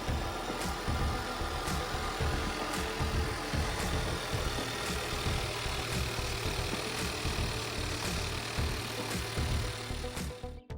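A 2019 Hyundai Veloster N, fitted with a new high pressure fuel pump, runs at a steady idle with a continuous low engine drone and a faint rattle. It stays even and close throughout, with no talk.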